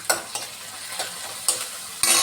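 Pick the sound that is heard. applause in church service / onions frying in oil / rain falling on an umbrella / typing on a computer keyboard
onions frying in oil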